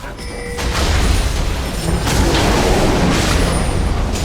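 A League of Legends turret collapsing in a bottom-lane push, a loud rumbling crash and boom that swells and sustains for several seconds.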